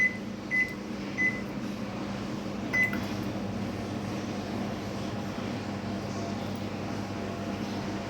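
An oven on fast preheat to 180 degrees for wheat flour biscuits gives a steady fan-like hum throughout, with a few short electronic beeps near the start, close by and with no talking.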